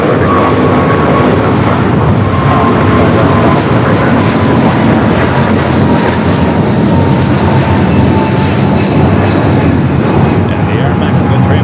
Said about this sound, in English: the United 777 rolling out of here,